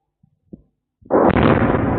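Surveillance camera audio in the Samara region: a couple of faint thumps, then a sudden loud explosive boom that roars on for about a second.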